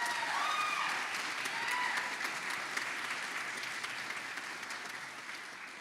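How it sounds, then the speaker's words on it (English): An audience at an honors convocation in an activity center applauds a guest, a dense, sustained wash of clapping from a large crowd heard at moderate distance, fading gently over several seconds. "Can we have a round of applause for Dr."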